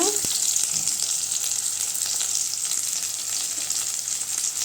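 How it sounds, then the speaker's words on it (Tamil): Onion and dried red chillies frying in oil with mustard seeds in a pan for a banana flower stir-fry, a steady close crackling sizzle with no break. "இப்போ வெங்காயம் சேர்த்துக்கலாம் காஞ்ச மிளகாய் சேர்த்துக்கலாங்க"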